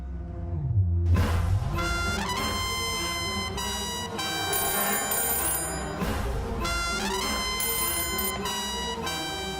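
A melodic ringtone plays loudly and continuously, its tune repeating in short phrases, with no voices.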